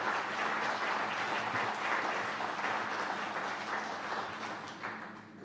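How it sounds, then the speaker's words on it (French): Applause from a conference audience at a talk on the memory of the Gulag, steady dense clapping filling the room and fading slightly toward the end, with no voices over it. "Здесь можно аплодировать."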